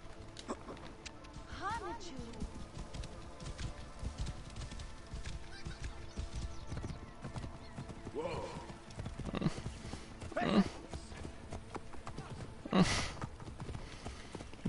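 Steady clip-clop of a video game horse's hooves plodding under someone talking, with a couple of short whinnies breaking through near the middle and end, in Assassin's Creed Origins.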